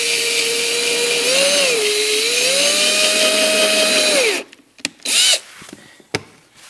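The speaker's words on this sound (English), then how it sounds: "we're just going to slowly and very carefully drill into the carpet" Power drill with a 6mm bit boring into car carpet on an Acura NSX, a loud whining motor that dips and rises in pitch for about four seconds, then stops, followed by a few short rustles and a brief rev.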